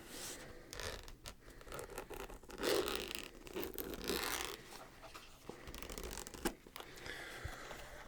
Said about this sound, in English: The zipper was very